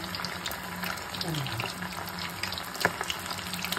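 Chicken pieces frying in oil, a steady soft sizzle and crackle with small spattering pops, fairly quiet and close, with a voice talking over part of it.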